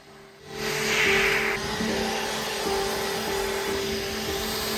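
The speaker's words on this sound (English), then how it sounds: "An air blower is used to flush out the water in more difficult to reach areas." An air blower flushes water out of hard-to-reach spots on a luxury car during cleaning, a loud steady whooshing roar that rises sharply after a quiet start and holds constant, up close with no talk.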